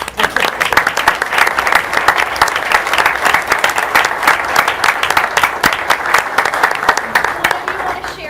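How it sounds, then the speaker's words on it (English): A room full of people at a public meeting claps loudly and continuously, dense rapid applause holding steady for several seconds. "I just want to give this group a round of applause."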